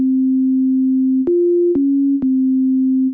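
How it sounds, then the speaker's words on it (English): A pure, smooth sine synth tone holds steady, stepping up and back down in pitch a few times, with faint clicks at each change. "choose the most basic sound possible, like this default preset from Operator, which is literally just a sine wave"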